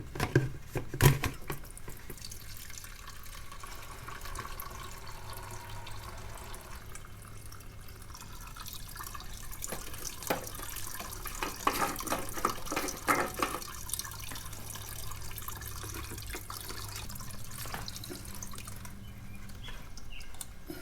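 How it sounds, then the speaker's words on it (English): Old gasoline drains from the fuel tank of a 1982 Harley-Davidson Sportster Ironhead chopper, a steady trickling and dripping of liquid into a container, close and moderately quiet. "Yeah, that gas looks terrible. Let me drain that out."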